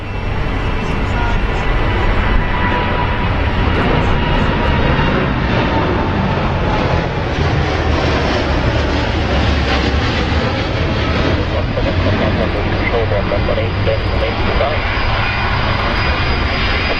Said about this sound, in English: oh, another Dreamliner. Yeah, there's the 78-9 variant